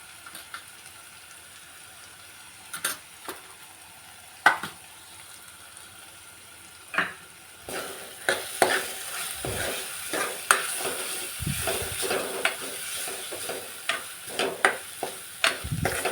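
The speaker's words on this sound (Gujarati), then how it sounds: "લીલી લસણને એક મિનિટ શેકીને તેમાં સૂકો મસાલો હળદર મરચું ધાણા જીરું નાખી દેવું" Green garlic frying in a pan with turmeric, chilli, coriander-cumin and other dry spices for a tuvar totha curry: a quiet sizzle at first, then a louder steady hiss with repeated spoon scrapes and stirs, no talk.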